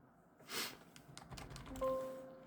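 Several soft keyboard clicks on a Rampage KB-R57 X-Jammer keyboard at an uneven pace, fairly close, with a brief whooshing rustle before them and a faint tone near the end.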